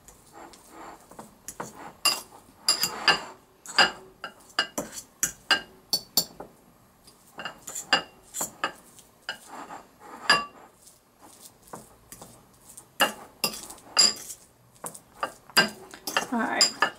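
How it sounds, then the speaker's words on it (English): A utensil mixes mayo in a bowl, giving a run of sharp clinks and scrapes against the bowl in irregular bursts with quiet gaps, close and fairly loud. "I'll add that in, mix this around, and see what kind of consistency we have."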